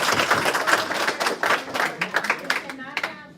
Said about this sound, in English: We cannot have applause after each comment.